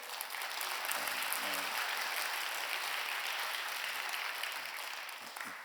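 A church congregation applauds during a Christmas service, a dense, sustained wash of clapping from many hands that holds steady for several seconds before easing off.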